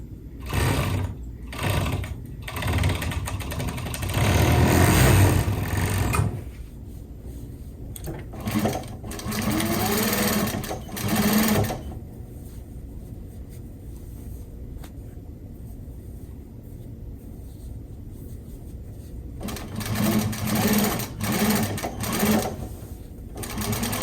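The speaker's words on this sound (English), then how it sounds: "I'll trim off this excess and run it through the serger." Cushion fabric runs through a serger that stitches in three close, buzzing bursts with quiet pauses between them, the motor whirring steadily during each run.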